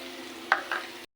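Ground paste of ginger, garlic, onion and green chili fries in a pan, a soft sizzle with two brief stirring scrapes before cutting to silence.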